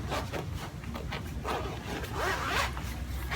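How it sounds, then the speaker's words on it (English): A motorcycle rain jacket zipper is drawn up in several quick rasping strokes, close and clear, with no talking. "now we have to zip it up and use the Velcro"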